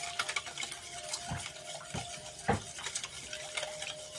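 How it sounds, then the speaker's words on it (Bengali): A hand whisk stirs a watery spiced mixture with chopped leaves in a bowl, giving soft, uneven scraping and clinking strokes close up with no talking. "একটা হ্যান্ড উইক্সের মাধ্যমে আমি মিশিয়ে নিচ্ছি।"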